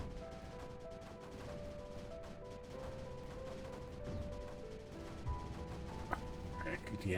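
Mortar fire in the strategy game Creeper World 4 forms a dense, steady barrage of overlapping thuds and blasts over sustained tonal game music, holding at an even loudness throughout.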